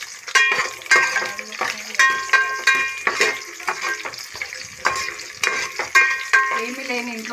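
Sliced onions frying in a pan for vegetable sambar, a bright crackling sizzle with repeated clinks and scrapes of a utensil against the pan, close and loud.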